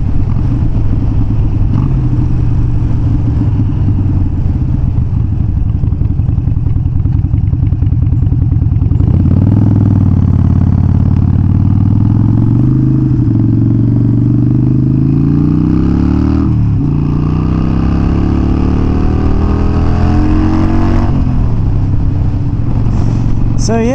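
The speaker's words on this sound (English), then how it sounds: "So yeah, out on the bike," A Harley motorcycle out riding on a sunny day, its engine droning steadily and loud throughout, with pitch rising and falling as it revs and shifts through gears, alongside wind rush.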